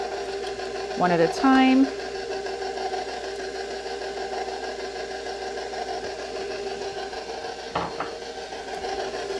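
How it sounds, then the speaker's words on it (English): An electric mixer runs on low, mixing eggs into blueberry peach yoghurt muffin batter, a steady close motor hum throughout while a voice briefly speaks over it. "just going to put the machine on low and just add the eggs in"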